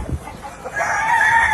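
Kearny White Hackle and black McRae gamefowl crowing loudly, a strained rising crow swelling in the second half after faint clucking and scratching at the start, with no voices.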